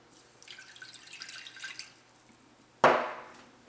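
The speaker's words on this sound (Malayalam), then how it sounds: "ഇതിലേക്ക് നമുക്ക് വെള്ളം ചേർക്കാം." Water pours steadily for about a second and a half, then a sharp splash and hiss follow as a quarter glass of it hits a hot pan, fading out.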